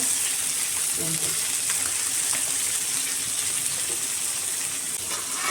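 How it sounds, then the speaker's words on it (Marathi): Fish fries in a pan, giving a steady, loud hiss and sizzle with crackling pops that stays level throughout, close up and alone. "हे बघा किती मस्त ना मच्छी फ्राय होते."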